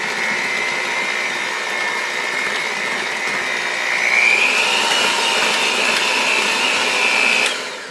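An electric stand mixer beating brownie batter at a medium-high setting, a steady whirring motor hum that rises slightly in pitch partway through and then cuts off near the end.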